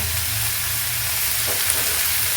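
Onions with green chillies sautéing in a pan, a steady close sizzle and crackle of frying that holds evenly throughout with no talk.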